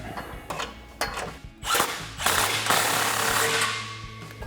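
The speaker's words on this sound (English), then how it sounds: "we'll switch to our 15mm socket to tighten down our front clamp" Ratchet with a 15mm socket tightening the front exhaust clamp on a 2015-2020 Ford F-150 during a Proven Ground 4-inch single exhaust install: quick clicking strokes in bursts, then a sustained metallic ratcheting run, close by.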